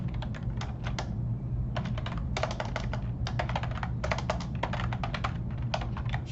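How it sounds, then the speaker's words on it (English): Rapid keyboard typing in bursts of clicky keystrokes, close up, with short pauses between runs over a steady low hum. "Struggling with the typing here."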